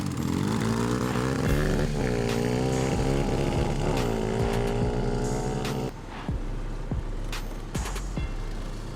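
Dirt bikes and ATV motorbikes racing, their small engines revving hard with rising and falling pitch as they accelerate, then easing off and passing, loud and close with no talking.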